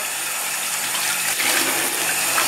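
Water runs over a Samsung Galaxy S5 phone as it is washed, a continuous close, rushing splash that swells slightly partway through.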